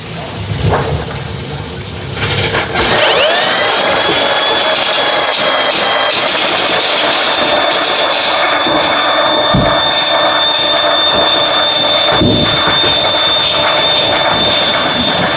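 A drain snake machine clearing a greasy, lint-clogged laundry sink drain: steady, loud mechanical whirring and droning throughout, with a sustained high whine and rushing hot water underneath, spinning continuously.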